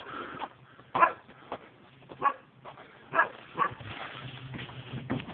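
Unfriendly farm dogs bark in a series of short, muffled barks and yips at moderate distance, several bursts spaced unevenly, with a low hum underneath.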